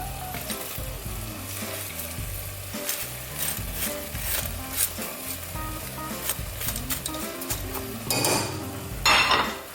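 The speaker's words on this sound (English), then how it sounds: "So now we're gonna add the bacon." Bacon being added to a pot for three-meat chili and stirred, with steady sizzling and frying plus clinks and scrapes of a utensil against the pot throughout.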